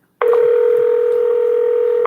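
A telephone tone plays as a loud, steady electronic signal that starts abruptly and holds for about two seconds while a call is being placed. No one speaks over it.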